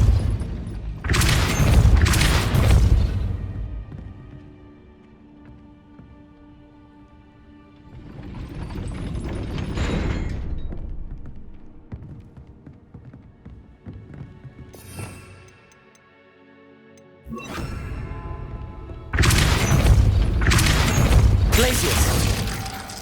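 The Depulso force spell is cast in Hogwarts Legacy: loud, booming blasts recur in several bursts, with quieter, rumbling stretches between them.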